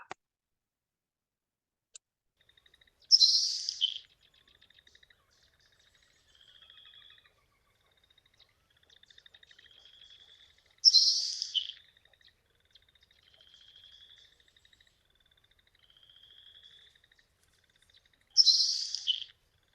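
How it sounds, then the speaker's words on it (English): Three sharp, sizzling bursts of a Nelson's sparrow song spaced several seconds apart, with faint high insect-like buzzes between, thin and fairly distant. "the Nelson sparrow, much more sizzly, crispy, ephemeral, sort of sounds like it's saying tequila"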